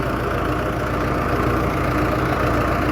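A tractor engine idles loud and close in a steady, unbroken rumble with a faint knocking texture and no voices.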